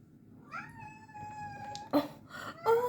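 A small pet cat meows nearby in a quiet room, one drawn-out, rising meow followed by a couple of shorter chirping mews.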